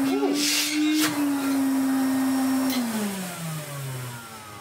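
A Hoover Constellation 867a vacuum cleaner motor runs loud and close with a steady droning whine, then winds down in pitch near the end, with a few brief knocks and handling noises over it.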